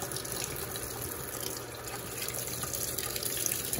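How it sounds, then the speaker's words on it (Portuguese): A Panasonic NA-F140B6 washing machine fills with water while washing work jeans, producing a steady, continuous rushing and hissing of inflowing water at moderate level with no pauses. "Completar o nível de água."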